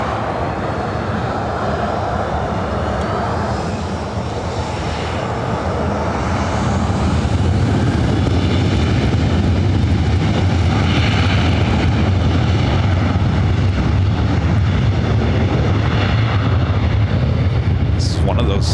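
A 23-year-old Boeing 737-900 without winglets takes off at LAX heading for Portland, its engines building from a broad rush into a loud, heavy roar that holds, with voices talking beneath.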